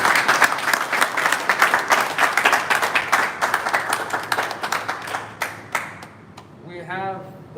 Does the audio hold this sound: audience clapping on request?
yes